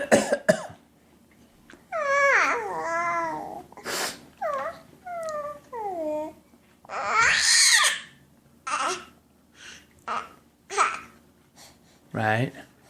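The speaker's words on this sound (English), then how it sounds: "Cough at me." A young child makes pretend coughing sounds, several short bursts interspersed with babbling and an adult talking nearby in a home setting.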